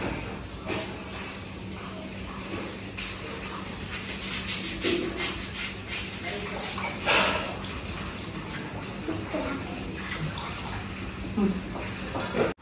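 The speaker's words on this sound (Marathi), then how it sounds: "आणि या सेम कपने आपण 2 कप पाणी घेणार आहोत।" Water is poured into a cup and a pan for sugar syrup for wheat-flour gulab jamun, making a steady, close, gushing splash that runs nearly unbroken, with faint kitchen handling noises.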